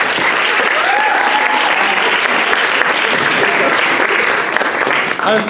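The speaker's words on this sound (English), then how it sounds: "I think we do need to give her a big, big round of applause" Audience at a certificate presentation gives a big, sustained round of applause, loud and dense clapping from a full room, steady throughout with a murmur of voices underneath.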